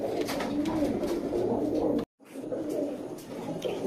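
Giribaz high-flyer pigeons coo steadily and densely, many birds close together, with the sound broken by a brief cut partway through.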